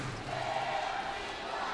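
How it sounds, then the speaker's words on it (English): A crowd in a badminton arena, the Taeyang Gymnasium in Incheon, rises in a chant, a dense, steady wall of many voices heard from the stands. "the chant goes up from the crowd here in the Taeyang Gymnasium in Incheon"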